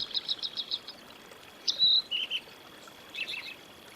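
Birds chirp in The Crimson Maid video game, with faint high tweets coming in short clusters, then a brighter call, and a few scattered chirps over a quiet ambient background.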